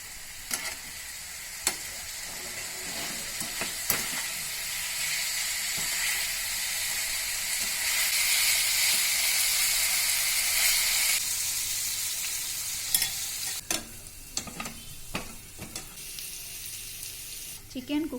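Marinated chicken pieces fry in a pan for chicken fried rice, giving a loud, continuous sizzling hiss that swells in the middle, broken by sharp clanks and scrapes of a spatula toward the end. No one speaks.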